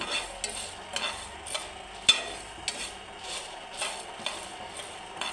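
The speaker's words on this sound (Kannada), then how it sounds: "ಇದನ್ನು ರೋಸ್ಟ್ ಮಾಡ್ತಾಯಿದ್ದೀನಿ ನಾನು" Masala for a coastal-style fish curry roasting in a pan over a low gas flame, with a soft steady sizzle and a few scraping stirs and taps of the spoon at regular intervals, close and fairly quiet, no talking.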